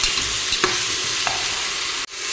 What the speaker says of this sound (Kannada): ಮಸಾಲೆ ಹಾಕ್ಕೊಂಡು ಸ್ವಲ್ಪ ಫ್ರೈ ಮಾಡ್ಕೊಳ್ಬೇಕು